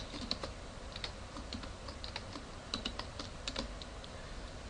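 A computer keyboard is typed on while working in Mathematica, a quiet close run of irregular key clicks and taps over a soft background hiss.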